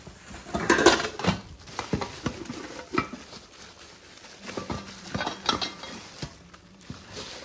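Cooking pots from a six-piece pot set clatter and knock as they are handled, with irregular metallic clinks and taps spread through the stretch, loudest early on and again near the middle.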